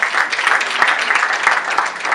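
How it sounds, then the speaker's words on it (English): Loud, close crowd applause with dense, steady clapping filling the short clip, no voices over it. "Can we please give him a round of applause?"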